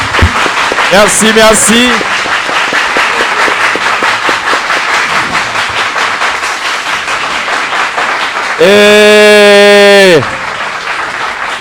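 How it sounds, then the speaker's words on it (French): Lycée students at a school debate event break into loud, sustained applause and clapping that runs through most of the stretch, with a speaker's voice heard briefly at the start and a sharp electronic tone cutting in near the end. "Ils applaudissent avec fierté la représentante du lycée du 150e."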